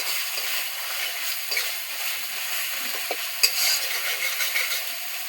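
Curry paste for a tilapia fish curry fries in a pan with a soft, steady sizzle, broken by a few faint stirring clicks and scrapes.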